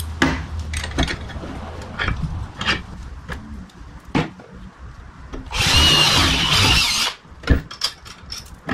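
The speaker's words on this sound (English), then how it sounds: "First thing I want to do is drill one of these holes out to accept the bolt." A power drill whines loudly for about a second and a half, drilling a bolt hole in a metal bracket, surrounded by scattered clanks and knocks of tools and metal.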